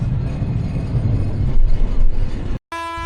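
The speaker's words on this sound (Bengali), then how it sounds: "আমাদের ট্রেন হচ্ছে দক্ষিণ পশ্চিম অঞ্চলের সব থেকে বড় যে জংশন দ্বীপ সেখানে প্রবেশ করতেছে এখন" A train pulling into a large railway junction rumbles steadily with low mechanical noise and rolling wheels, loud and close, before cutting off abruptly near the end.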